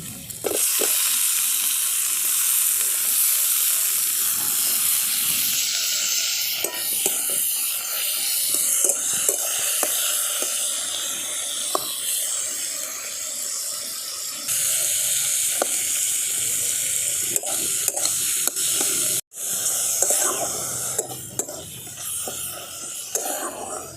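Tomato and dried red chilli fry in a pan with a steady, loud hiss and sizzle, broken by occasional stirring scrapes throughout, with no voices.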